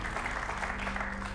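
Dense, even clapping fills a TV quiz show studio for a short moment, loud and sustained throughout the brief stretch.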